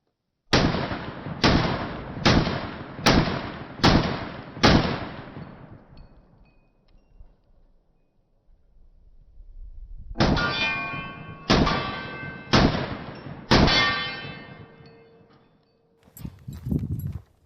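A Kimber R7 Mako Carbon Compact pistol fires two strings of rapid shots, each crack followed by a ringing clang of steel targets, with a quiet gap between the strings and a final pair of shots at the end.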